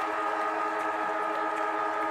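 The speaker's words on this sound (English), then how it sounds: "that's the final siren" A loud, steady siren sounds the end of an Australian rules football semi-final between Nightcliff Tigers and St Mary's in the NTFL Men's Premier League, a sustained continuous wail filling the whole span.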